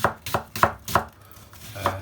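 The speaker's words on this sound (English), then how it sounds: "it's good practice to get in your chopping your onion" A knife chops an onion on a board for broccoli and stilton soup, five or six sharp, evenly spaced cuts with a short pause before the last, close and crisp.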